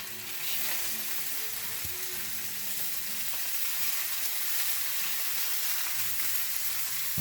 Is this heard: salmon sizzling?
yes